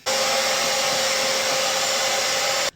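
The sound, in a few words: Conair Infinity Pro hair dryer with diffuser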